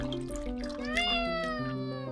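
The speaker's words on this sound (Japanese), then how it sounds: "わ、猫ちゃんだ。" A cat meows in a free horror video game, a clear drawn-out meow rising and falling over soft background music and a gentle dripping, water-like sound.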